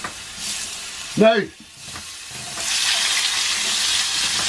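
Vine ripe tomatoes hit a very hot frying pan during a full English breakfast cook, giving a loud burst of sizzling that settles into steady spitting fry, with one brief spoken word early on.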